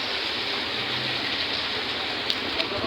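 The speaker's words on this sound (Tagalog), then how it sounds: "Ang laki ng ulan." Heavy rain pours down steadily in Tayug as a dense, even hiss of water that stays loud and close throughout, with no talking.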